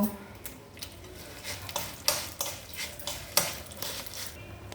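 Red chillies roasting in a pan for spice powder, with scattered scraping stirs and soft crackling as a spoon moves them, faint and close with no talking.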